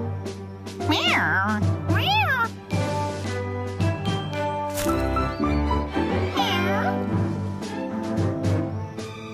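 Repeated meows with sweeping pitch rise and fall over a busy musical background from a Postman Pat cartoon; the meows may be a voice imitating a cat.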